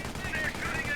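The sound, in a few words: machine gun fire in the Company of Heroes video game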